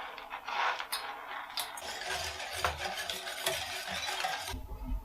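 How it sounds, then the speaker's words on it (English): Palm sugar being stirred into boiling water in a bowl, with soft scraping and clinking of a utensil against the bowl running continuously under a bubbling wash. No one speaks. "you basically put all the palm sugar into that boiling water"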